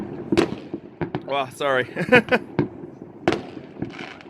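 New Year's Eve fireworks burst over a Russian street near Moscow, a run of sharp, close bangs and crackles mixed with excited voices talking and exclaiming over the explosions.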